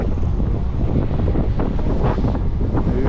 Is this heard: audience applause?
no